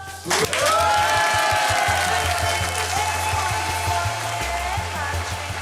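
A studio audience claps and cheers in a dense, sustained wash of applause with music-like tones over it, loud and continuous throughout.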